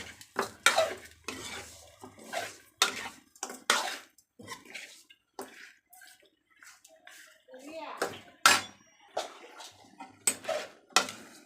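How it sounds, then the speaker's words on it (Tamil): Chicken pieces, salted and sprinkled with turmeric, are sautéed and stirred in a pan for a Tamil-style chicken curry, giving repeated scraping and clattering strokes with brief pauses and a faint sizzle, close and fairly loud; a voice talks between strokes. "வணக்கிக்கலாம் நல்லா கறி"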